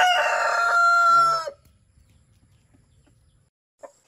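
A Jersey Giant rooster gives one loud, close crow on a chicken farm, the call lasting about a second and a half before dropping into near silence, with a faint cluck after it.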